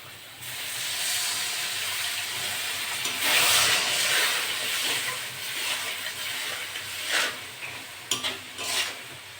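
Spice masala for a chicken and potato curry fries in a pan as a little water is added, with a sharp hissing burst of steam, then continued sizzling and stirring scrapes close by.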